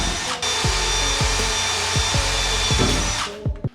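A power drill bores bolt holes for the door hinges of a 1951 Ford rat rod, whining loudly and steadily as the pitch dips repeatedly under load, then cuts off abruptly.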